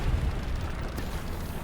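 Artillery shells exploding in Hell Let Loose, a continuous deep rumbling roar of distant blasts merging into one heavy, noisy wash with low thumps near the start.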